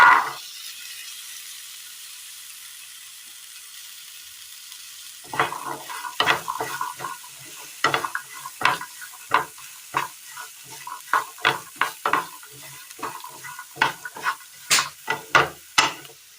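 Boiled chickpeas being stirred into fried spice masala for a Kerala breakfast curry: a quiet opening, then close, regular scraping strokes of a spoon against the pan over a soft sizzle, growing louder and quicker toward the end.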